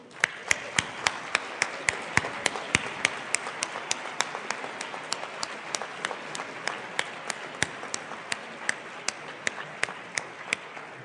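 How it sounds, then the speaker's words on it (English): At a programming competition's final tournament, an audience applauds the 9th through 16th place teams. Sparse, crisp individual claps ring out over a soft background of clapping, steady for about eleven seconds. "if you could have a huge round of applause for the 9th through 16 teams"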